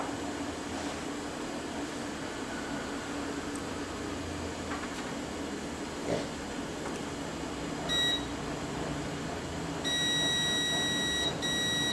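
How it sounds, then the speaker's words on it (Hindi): Multimeter continuity beeps while probing a shorted line on a mobile phone circuit board during repair, several short high electronic tones near the end, the last longer and more sustained, over steady background hiss and room noise. "वो तो बीप इसलिए दे रहा था क्योंकि वो तो पहले से बीपीएच लाइन शॉर्ट है"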